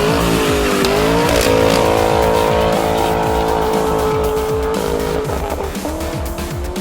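A 1973 Camaro with a FloPro custom dual exhaust revs loudly and close, its engine pitch rising and falling in a continuous throaty roar over several seconds, alone without talk.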